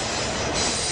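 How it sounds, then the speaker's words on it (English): An empty auto carrier or cattle train rolls past with a dense, continuous roar of steel wheels on rail and a high metallic squeal, loud and close throughout. "It's obvious this was an auto carrier or cattle train, but there's nothing in them."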